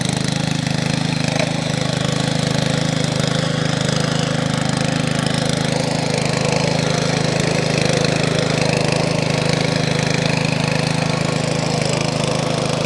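A small-farm power weeder engine runs steadily and loud throughout, a constant mid-pitched drone with no pauses while tilling soil in a field.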